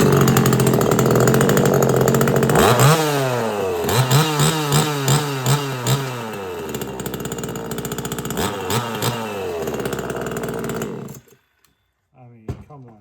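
A NeoTech NCS2500 chainsaw, warmed up, runs loud and close, its engine revving up and down repeatedly in rising and falling sweeps between idle, then cutting off abruptly near the end with a brief restart sputter.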